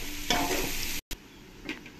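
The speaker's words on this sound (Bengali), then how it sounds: "লাল লাল করেই পেঁয়াজগুলো আমি ভেজে নেব।" Onions with salt being fried in ghee, heard as a soft close sizzle with a stirring scrape, a brief cut in the sound, then a quieter sizzle and another stir.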